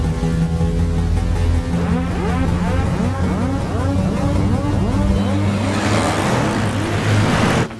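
A Scorpio SUV drives past with a loud, sustained engine roar and whooshing tire noise, swelling to a broadband rush near the end before cutting off, set under a film's dramatic background score.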